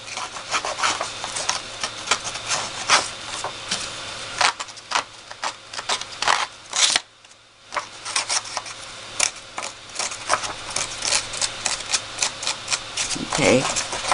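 Paper edges being distressed by hand, rapid rough scratching and scraping strokes rubbing across sheet edges in dense bursts, close and fairly loud, with one brief pause midway.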